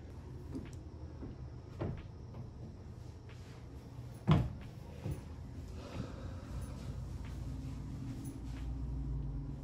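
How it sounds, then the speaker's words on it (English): A pocket door in a new prefab modular home sliding along its track, soft rumbling movement with a few faint knocks and one sharper thud near the middle, all quiet and without speech. "Pocket door."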